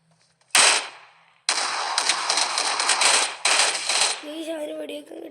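Gunfire in the mobile shooter BGMI: a sharp single shot, then sustained bursts of rapid automatic fire that stop and restart, loud and close, ending in a faint voice underneath.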